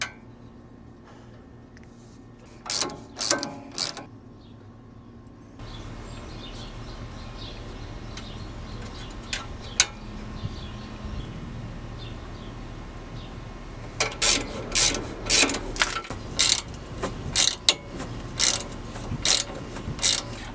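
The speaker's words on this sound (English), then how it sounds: "I will use a crescent wrench for the nut now that it's actually loose, and then I'll use that Allen wrench" Bursts of ratcheting clicks from a crescent wrench and Allen wrench working a loosened nut while installing a leveling kit on a Honda Ridgeline, coming in short clustered runs at close range over a quiet background.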